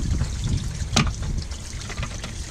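Water splashes and trickles continuously while a campervan toilet cassette is rinsed out, with one sharper slosh partway through. The sound is close and fairly loud.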